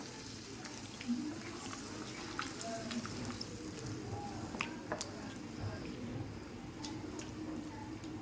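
Water poured into a cooking pan over a gas flame while a vegetarian jackfruit curry is being made, a low, continuous trickling and splashing with faint clinks, moderately quiet throughout.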